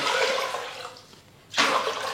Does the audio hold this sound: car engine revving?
no